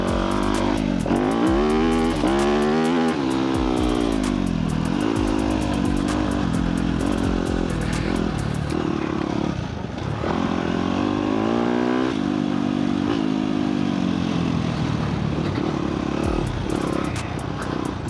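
A dirt bike motorcycle engine revs hard on a dirt track, loud and close. The pitch rises and falls repeatedly as the throttle is worked, and no one speaks.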